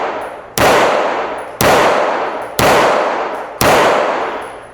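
Five pistol shots fired at a target seven yards away, loud sharp cracks spaced about a second apart, each followed by a short ringing decay.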